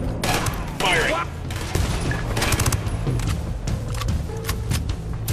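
A fusillade of rapid gunfire and explosions fills a firefight in the video game Ghost Recon Wildlands, dense overlapping bursts with thuds underneath and game voices mixed into the shooting.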